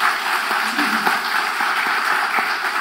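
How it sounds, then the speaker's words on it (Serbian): Applause from an audience welcoming a visiting priest at a church gathering, a dense, even patter of many clapping hands heard close and fairly loud for a few seconds. "ja vas molim da pozdravimo oca Sarafima jednim aplauzom"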